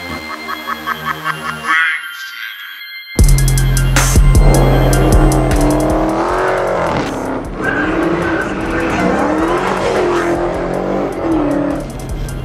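A 2017 Dodge Hellcat's V8 revs hard and its tires skid with sustained squealing, loud and close, after a brief stretch of rhythmic pulsing and a short silent gap.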